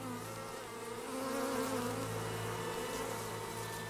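Honey bees swarm around their hive in a steady, dense buzzing drone that holds unbroken throughout, with no voices.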